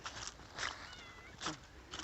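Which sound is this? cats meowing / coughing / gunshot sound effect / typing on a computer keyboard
cats meowing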